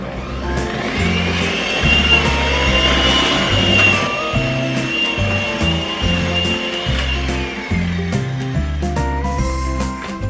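Cookie dough being mixed with an electric mixer, a loud steady motor whine with rhythmic thumping as the beaters work through the ingredients, running throughout.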